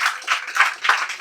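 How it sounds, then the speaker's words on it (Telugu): A congregation at an outdoor crusade meeting claps loudly and continuously in quick bursts, with a sharp final clap. "గట్టిగా చప్పట్లు కూడా దేవుని మహిమ పడతాం."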